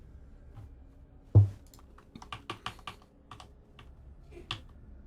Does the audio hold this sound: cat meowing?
no